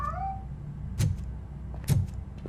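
A cat meows twice inside the video game Robocop: Rogue City: two short, fairly close mews about a second apart over a low steady background hum.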